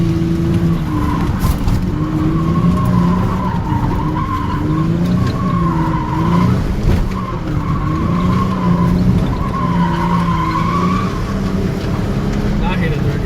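Car drifting with tires skidding and squealing in long wavering wails, engine droning beneath, loud and close, while voices talk over it.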